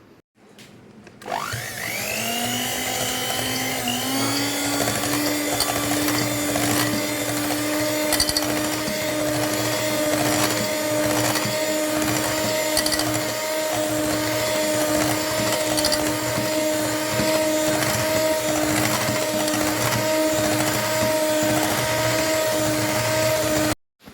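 An electric hand beater whirs as it creams butter for a plum cake, spinning up quickly and holding a steady, close, loud whine with no talking.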